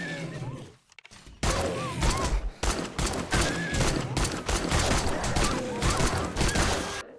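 Rapid gunfire in 7 Days To Die, fired at a zombie dog: a dense, loud run of sharp shots starts after a brief pause and continues steadily, mixed with snarls and thuds.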